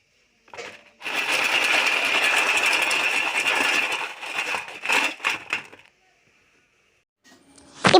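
Batter of onion, chilli, urad dal and rice flour hits hot oil and sizzles steadily for several seconds, then breaks into a few crackling pops and fades. It sounds close and moderately loud, with no one speaking.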